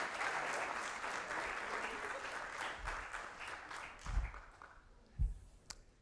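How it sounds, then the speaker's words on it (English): An audience claps for award recipients at a student innovation challenge ceremony, a full burst of applause that thins out toward the end, leaving a few last scattered claps. "Give them another round of applause."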